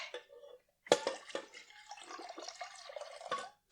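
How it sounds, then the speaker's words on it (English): Hot water is poured with irregular splashing and dripping, close but faint, in a few uneven bursts separated by short silences. "Pour the hot water."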